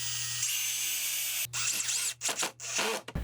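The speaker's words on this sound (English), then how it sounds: "I'm also going to pre-drill both of these" A power drill whirs in short bursts pre-drilling wood near the edge of a swing frame, revving up and stopping several times close by, with brief pauses between runs.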